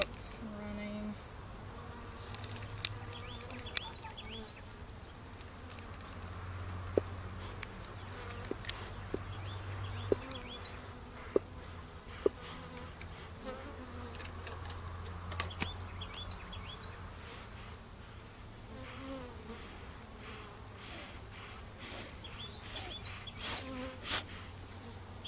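Honey bees swarming around an open hive during an inspection, a dense, continuous close-up buzz with occasional clicks and faint bird chirps in the background.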